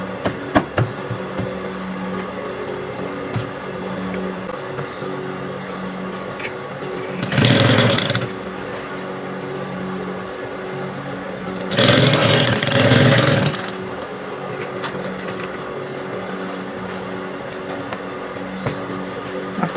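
A sewing machine stitches a cargo pants pocket cover in two loud bursts of several seconds each, close and separated by a pause, over a steady background hum.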